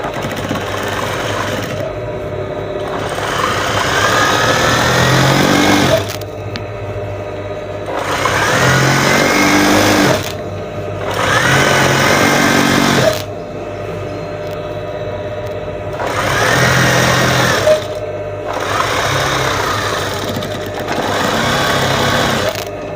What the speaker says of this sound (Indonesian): Mari kita jahit.